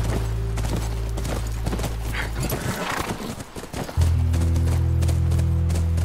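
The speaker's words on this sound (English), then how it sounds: "That's our horse." Horse hooves clip-clopping in The Last of Us video game, a rhythmic run of hoofbeats with a brief drop in the middle before a steady game music tone returns, no talk.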